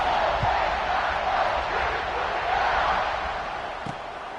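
Steady stadium crowd roar fills a college football video game moments before kickoff, a dense continuous wash of cheering with a few faint thumps, staying loud throughout and easing slightly near the end.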